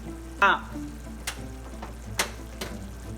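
Jerk chicken frying in a pan with oyster sauce added, stirred now and then, giving a soft steady sizzle broken by a few sharp scraping clicks from the utensil.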